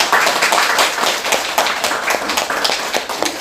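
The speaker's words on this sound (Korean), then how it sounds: "우리 서로스님을 큰 박수로 맞이해 주시기" Audience clapping in a lecture hall welcomes a Buddhist monk to give a dharma talk, a steady dense patter of many hands at moderate volume with no voices.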